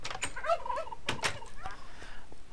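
Turkeys in a video game let out a few short gobbling bursts, close and fairly clear, scattered unevenly over a couple of seconds against a quiet background.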